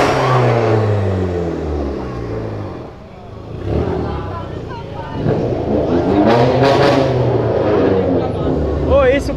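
A car revs hard while drifting in a crowded parking lot, the engine note rising and falling in loud sweeping pulls with tyre noise, as people talk and exclaim over it.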